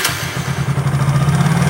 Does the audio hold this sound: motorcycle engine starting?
yes